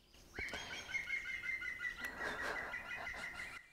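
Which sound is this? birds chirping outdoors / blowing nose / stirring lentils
birds chirping outdoors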